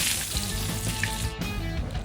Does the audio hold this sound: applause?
no